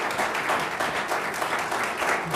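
Audience applause at a 2019 Canon City council candidate forum, steady sustained clapping from a room of people filling the whole stretch at moderate loudness.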